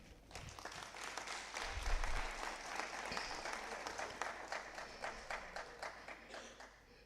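An audience in a provincial legislature sitting with honourable members and guests breaks into steady applause, dense clapping that swells and holds for the whole stretch before thinning slightly toward the end.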